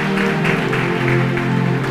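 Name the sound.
audience clapping hands at church sermon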